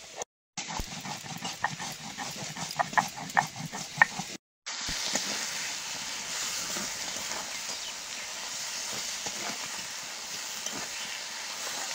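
Live river crabs stir-fried with spices in a home kitchen pan give a steady sizzle with clattering stirring strokes, close and continuous, briefly cut by two short gaps.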